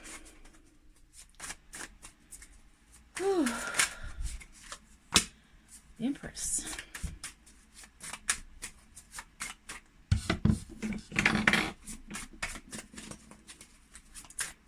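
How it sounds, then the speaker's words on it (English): Tarot cards are shuffled in quick bursts of crisp riffling and flicking, close to the microphone, with a person speaking briefly between the shuffles. "So let's just shuffle the deck."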